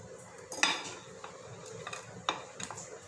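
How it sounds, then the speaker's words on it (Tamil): Spoon stirring a Spanish omelette mixture of beaten egg with fried potato and onion in a bowl, giving soft scraping with a couple of sharper clinks against the side, close and fairly quiet. "மறுபடியும் கொஞ்சம் கலந்து விட்டுக்கோங்க."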